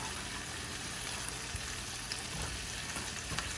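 Tomatoes sauteing in a pan give off a steady, close sizzle and crackle throughout, with a few small pops and no talking.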